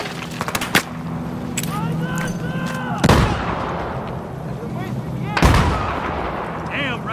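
Gunfire and explosions in Battlefield 4: heavy booming blasts and cracking shots ring out close over a constant battle rumble, with voices shouting in the background.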